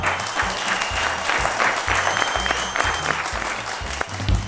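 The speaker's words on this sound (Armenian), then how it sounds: "Ծափահարություններ։" A studio audience on a game show breaks into loud, sustained applause, dense clapping that fills the space close by and carries on steadily without a break.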